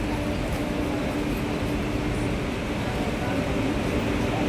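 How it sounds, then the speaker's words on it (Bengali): A train approaches a platform at Gaya station, heard as a steady, continuous low rumble and hiss that holds at an even level throughout. "দূর থেকে যে ট্রেন আসছে, এই ট্রেনটাতেই যাবো আমরা"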